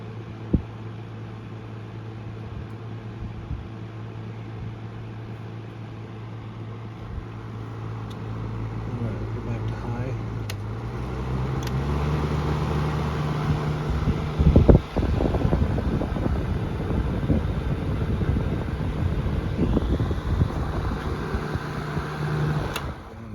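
Hampton Bay 11-inch air circulator fan (TF-1010S) running: a steady motor hum that steps up in pitch partway through, followed by a louder, rougher airy rush.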